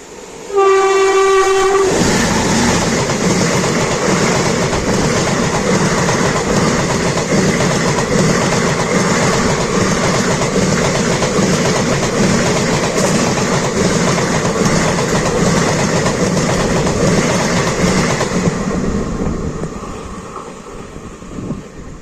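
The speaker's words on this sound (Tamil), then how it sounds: "ஏதோ ஒரு ட்ரெயின் கிராஸ் ஆச்சுங்க." A loud train horn sounds briefly, then a train rumbles and clatters past close by for a long stretch, heard from a halted express train, before fading slightly at the end.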